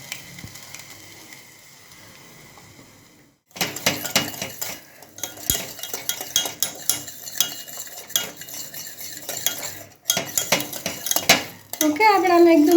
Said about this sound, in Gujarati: ઓકે, આપણે આને એકદમ સરસ મિક્સ કરી લઈએ